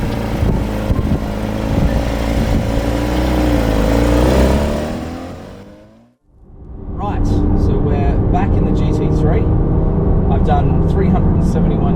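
A green 2022 Porsche GT3 engine revs loudly, its rising note climbing, then dies away to near silence before driving and engine noise returns close by.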